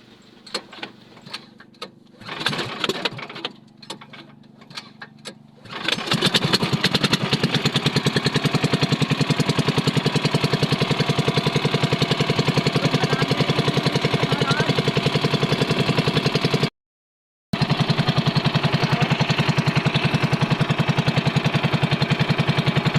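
A boat engine on a family clam-diving outing is started after some clattering and handling, then runs loud and steady with a rapid, buzzing motor drone close by.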